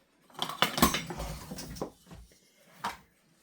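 A metal spoon scrapes and clinks inside a pot while tallow oil is scooped out, giving a few close clattering knocks followed by a quieter scrape and one last clink.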